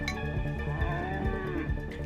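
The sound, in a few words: cow mooing, from the video game Milkmaid of the Milky Way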